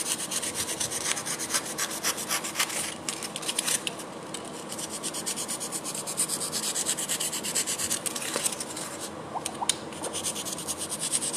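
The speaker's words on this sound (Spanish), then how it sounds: "o con el bisturí le cortamos" A scalpel cuts and trims a cold porcelain base, making steady close scraping and rubbing strokes with repeated short scratchy bursts, alone and without speech.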